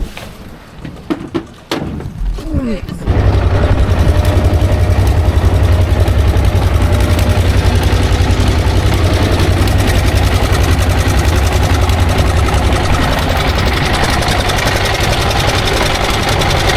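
The engine of a small fishing boat on the choppy Meghna river: after a few seconds of quieter handling noise it rumbles into a loud, close, steady low thumping that holds to the end.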